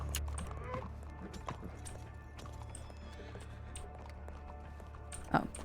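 Horse hooves clip-clop toward the listener in the RedM western roleplay game, steady trotting under game ambience, with a whinny and a brief louder hoof or thump near the end.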